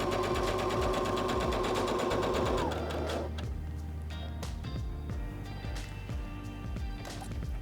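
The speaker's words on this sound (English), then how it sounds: "Place our fabric underneath the presser foot and step on the foot control to start sewing." SINGER HD6600C sewing machine stitching fabric with a long stitch: a close, rapid mechanical whir with a steady rhythmic clatter, slowing and changing to a lower, looser chugging as the run continues.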